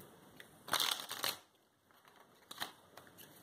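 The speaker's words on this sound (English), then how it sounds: "Can't even do a one-hand riffle shuffle with it." Quiet crackling flutter of playing cards being riffled, a short burst followed by a few scattered snaps and rustles, close and soft.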